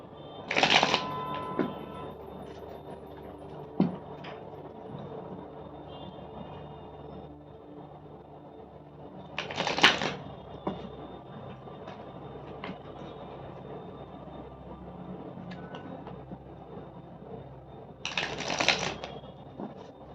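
Tarot cards riffled and shuffled for a clarifier reading, three separate bursts of crisp rapid flutter spaced several seconds apart, close and fairly loud, with quieter card handling between them and no talk.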